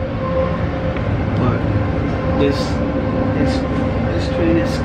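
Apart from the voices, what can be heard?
inside a moving IC intercity train in Germany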